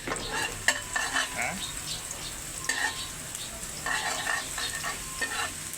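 Garlic frying in a little oil over low heat for a Filipino bagoong and kare-kare dish, a steady close sizzle with occasional stirring scrapes and clinks, and a brief voice in the middle.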